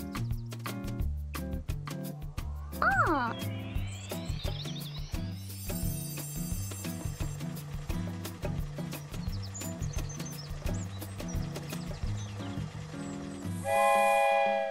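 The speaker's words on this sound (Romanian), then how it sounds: "Și uite! Este trenul Mark!" A cartoon train chugs along in a steady rhythmic beat with musical tones, sounding a bright rising whistle early on and again near the end, up close and alone.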